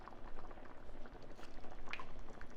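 Homemade or canned tomato juice poured into a full pot of chili, a steady, soft liquid gurgle and bubbling that runs the whole time, close and fairly quiet.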